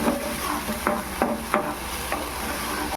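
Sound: ginger garlic onion tomato paste cooking in oil

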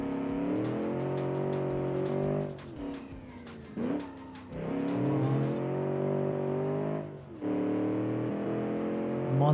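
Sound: engine of a 1970 Italian car at speed

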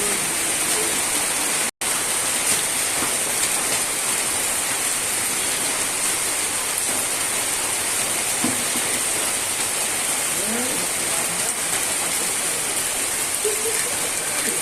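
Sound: heavy rain falling

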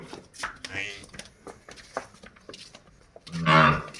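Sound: young cattle (heifer) mooing

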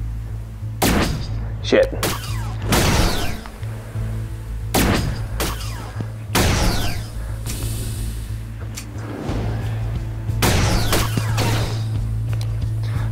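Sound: gunfire in VR video game Cogs and Cowboys

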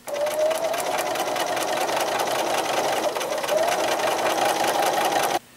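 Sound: sewing machine sewing a quilt border piece

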